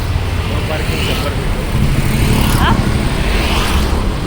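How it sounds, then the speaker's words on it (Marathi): Heavy traffic fills a busy main market with a loud, unbroken rumble of engines and passing vehicles, close and constant throughout. "कंटिन्यू गाड्यांचा इतका जास्त आवाज की काय बोलते ते समजतच नव्हते"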